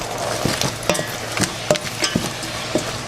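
Fresh cranberries cook in a pan with a cinnamon stick, letting out scattered sharp little pops and crackles over a steady sizzle, irregular and close.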